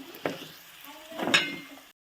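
Curry frying in a pan as chili powder is stirred in, with two scraping stir strokes over a faint sizzle, fairly close and moderately quiet, then a short silence near the end.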